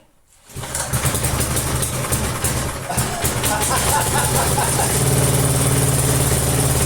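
A Texas rototiller's small gasoline engine starts after a brief quiet moment, then runs loud and close at half throttle with choke on, a steady rough chugging drone that holds to the end.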